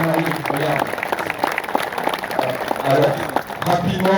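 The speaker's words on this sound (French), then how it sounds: "je voudrais quand même qu'on les applaudisse pour ce qu'ils ont fait" An audience applauds at a pilots' briefing at an RC model flying club in Viglain, a steady patter of clapping mixed with talking.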